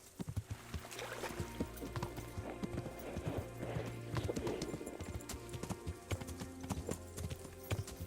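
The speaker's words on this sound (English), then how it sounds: "when I'm on a horse" A horse in the video game Kingdom Come: Deliverance gallops with rhythmic, steady clip-clop hoofbeats and an occasional whinny over low background music.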